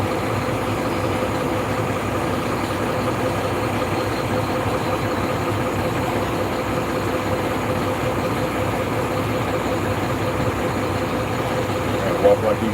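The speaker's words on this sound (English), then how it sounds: "This guy will come start his truck up right next to me." A truck engine running and idling close by, a steady loud low rumble that holds without a break for the whole stretch.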